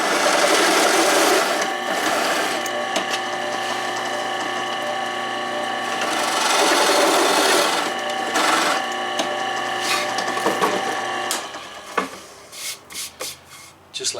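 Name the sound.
drilling countersink holes with a Forstner bit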